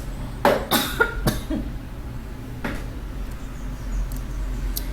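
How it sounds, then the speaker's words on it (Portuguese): A few sharp coughs come close together near the start, followed by another single cough after a pause, with quiet room tone between. "eu tive que dar uma parada para tossir um pouco"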